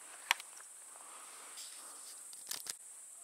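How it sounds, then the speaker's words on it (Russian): Forest insects, grasshoppers and mosquitoes, heard on an evening duck hunt, keep up a faint, steady high buzz, broken by a few brief sharp clicks near the start and end. "Такая приятная музыка леса, кроме комаров, конечно, и мошки, кузнечики."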